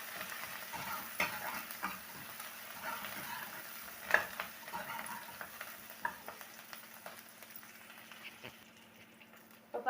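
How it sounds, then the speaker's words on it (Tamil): Onions sautéing with salt in a pan for an eggplant kurma, giving a soft, steady sizzle with occasional scraping stirs and clinks throughout, quiet and continuous. "உப்பு சேர்த்து இதை ஒரு 2 நிமிஷம் நல்லா வதக்கிக்கலாம்."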